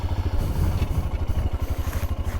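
A Royal Enfield Scram 411 single-cylinder motorcycle rides off-road along an old UK trail, its engine thumping in a steady loud pulse close by, with clattering and scraping from the rough ground.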